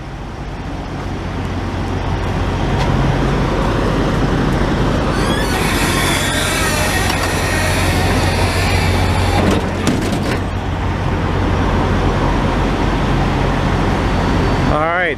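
Flatbed truck's engine idling nearby, a steady low diesel rumble under broadband noise, with a brief metallic clatter and creak partway through.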